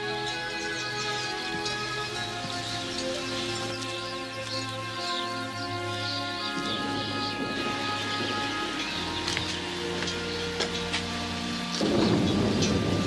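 Thunderstorm with steady rain and rolling thunder over a mountain setting, a continuous broadband wash of rain with low rumbles, the storm swelling louder near the end; no speech.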